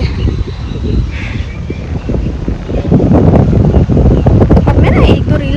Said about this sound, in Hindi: वाओ, देखो कितनी अच्छी हवा चल रही है ना